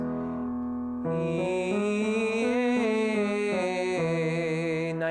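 A soprano sings an evenly paced five-note scale as a warm-up, clear and sustained, stepping up and back down through steady, unaccompanied tones.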